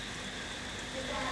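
Heavy rain falls in a short, even wash of hiss, faint and continuous, with no distinct drops standing out.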